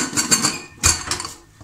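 A metal pressure cooker lid is fitted on during cooking of a bottle gourd and chana dal dish, with a few sharp clanks and metallic knocks close up, no talking.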